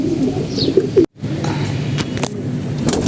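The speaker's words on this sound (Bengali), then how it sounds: "এখানে সব বিরাট কবুতর রাখা আছে" Pigeons in a loft giving low throaty coos, several overlapping calls close by, broken by a brief dropout, with faint higher chirps and background noise.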